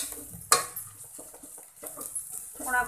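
A spoon scrapes and clinks against a pan while turmeric is stirred into hot spiced oil for Khandeshi masala kadhi, with one sharp metallic knock early on and soft sizzling under the close, irregular stirring.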